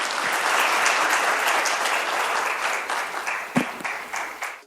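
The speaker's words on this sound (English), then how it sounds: "Please welcome Ambassador Mizushima with a big round of applause." A conference audience at a security forum gives a warm round of applause welcoming an ambassador, dense steady clapping that fills the hall and then tapers off toward the end.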